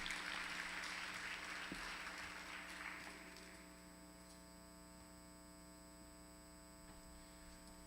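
Conference audience applause fades from a steady patter of clapping into a low persistent mains hum, heard faintly with no talk over it.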